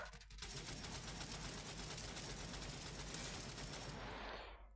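Sustained automatic gunfire from the World War Heroes video game, dense rapid bursts running continuously and loud throughout before tailing off at the end.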